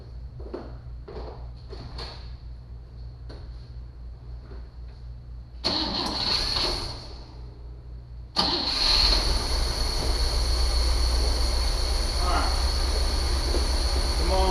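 A 1958 Cadillac engine that hasn't run in years cranks briefly, falls quiet, then cranks again and fires, settling into a loud, steady running roar close by; faint voices appear early on.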